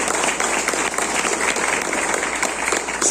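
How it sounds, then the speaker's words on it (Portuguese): A church congregation claps hard in loud, dense applause during a worship service, sustained evenly for a few seconds. "Você pode dar um aplauso bem forte ao Senhor?"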